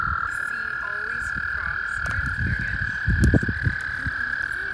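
Frogs croak on a nature trail during a family walk, a steady high-pitched chorus running throughout with lower irregular croaks and rustling beneath, while people talk nearby.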